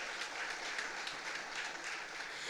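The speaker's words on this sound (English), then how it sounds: "Let us give a round of applause to our Honorable Prime Minister." Sustained applause from a large crowd, a thick, even wash of clapping that holds steady throughout.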